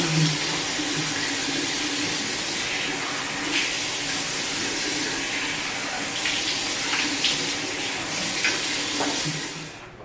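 Steady, loud stream of tap water running into a bathroom sink to cool down after a hot face rinse, continuous splashing with faint clinks.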